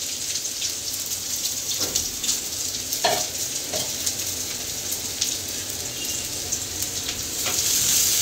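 Green papaya and potato bhaji with egg and onion, Mymensingh style, fries in a pan with a steady, close hiss of sizzling oil and a few scattered clinks of stirring.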